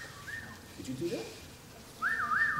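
A bird of prey at a live raptor presentation gives short, clear whistles, a brief early note and then a louder wavering whistle at the end, with faint voices between.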